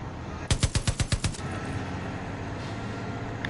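Automatic gunfire in the video game Far Cry 5: a quick burst of about seven sharp shots in a steady rhythm, loud and close, then fading into quiet background ambience.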